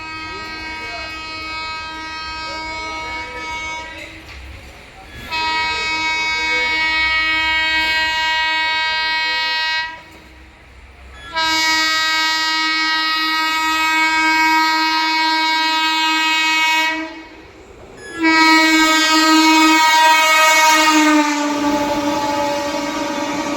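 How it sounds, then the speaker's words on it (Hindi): The Shiv Ganga Express arrives and passes a halted Howrah–New Delhi special train, sounding long, loud, sustained horn blasts in several separate stretches, with short gaps between them. "आ गई है शिव गंगा एक्सप्रेस"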